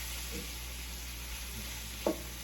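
Meat sizzles steadily in hot Crisco shortening in a pan while browning for Hungarian goulash, a constant close frying hiss broken by one sharp utensil clink near the end, with no talking.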